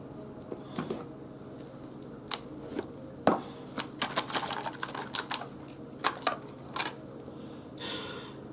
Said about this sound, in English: I'm going to pull some more cards before I start going over these.